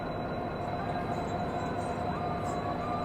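An Indian Sampark Kranti Express hauled by an EMD diesel locomotive rolls along, a steady rumbling roar of wheels and carriage noise heard from on board, continuous and fairly loud with no talking.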